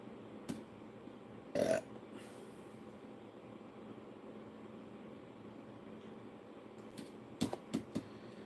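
One short, loud person burp stands out from a quiet room with low background noise, followed later by a few faint clicks.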